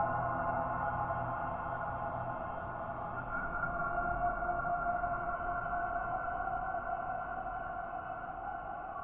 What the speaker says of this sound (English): kind of a whistle in the background that I'm hearing